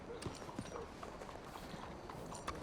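Horse hooves clip-clop in Red Dead Redemption 2, a steady, moderately quiet walking rhythm of repeated hoof strikes with faint ambient game sound behind.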